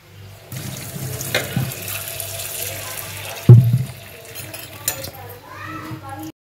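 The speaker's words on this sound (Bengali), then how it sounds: "বৃষ্টি পড়ে যাচ্ছে।" Steady rain falls outside a home kitchen as a continuous broadband hiss, with a few nearby clinks and clatters of dishes and utensils breaking through now and then.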